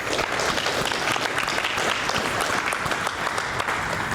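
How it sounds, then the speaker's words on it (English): A conference audience applauds the organizers, Perform Better, with loud, close, dense clapping that fills the room and stays full and unbroken for the few seconds it lasts. "let's give a round of applause to Perform Better for an awesome conference"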